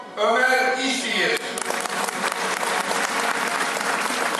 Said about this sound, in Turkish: Jürimiz için topluca tekrar bir alkış istiyorum.